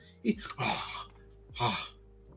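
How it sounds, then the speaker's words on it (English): A few heavy, audible breaths close to the mic, a sharp intake followed by longer exhales. "He's breathing heavier"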